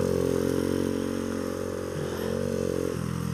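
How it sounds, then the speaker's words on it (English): Honda Z50 minibike engine revving steadily through short pop wheelies, a loud close-up buzzing drone with small pitch shifts, throttle easing off near the end. "Doing a couple little short pop wheelies."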